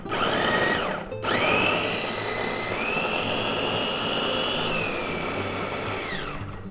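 An electric food chopper whirs through onion chunks, a loud close motor whine that cuts out briefly after a second, then restarts and runs steadily, shifting pitch as the pieces break down.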